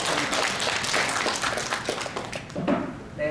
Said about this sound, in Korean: 한 박수 또 하고 가시죠